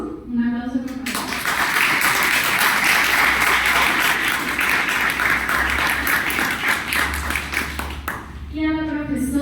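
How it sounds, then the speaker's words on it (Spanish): At an academic philosophy panel, the audience breaks into loud, sustained applause lasting several seconds, with a speaker's voice heard briefly just before it starts and again after it fades. "Un aplauso, por favor"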